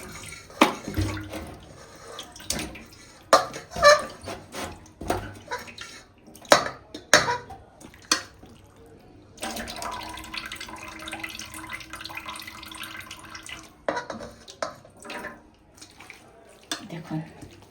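Washing water draining and splashing from goat meat in a metal basin, with intermittent clinks of the basin and pouring water, a steadier running-water stretch in the middle, and light talk between sounds.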